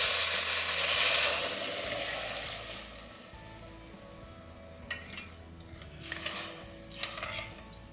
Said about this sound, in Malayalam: ഇനി നമുക്ക് നമ്മളുടെ നാളികേരപ്പാലും വെള്ളവും കൂടിയിട്ടുള്ള അത് ഒഴിച്ചു കൊടുക്കാം